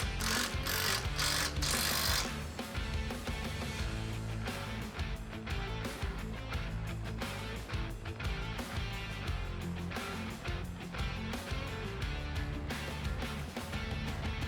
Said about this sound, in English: we're going to go ahead and high tension it with the rattle gun or a spanner.